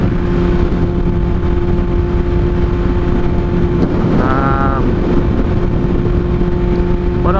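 A Honda CBR600RR with a Toce exhaust and a quickshifter drones steadily under heavy wind buffeting, and around the middle a quick rising-and-falling engine tone marks a downshift.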